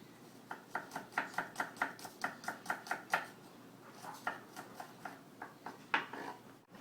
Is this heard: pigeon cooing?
no